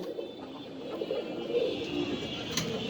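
A pair of Danish pigeons coo softly and continuously at a pigeon farm, low throaty calls close by over a faint steady background hum.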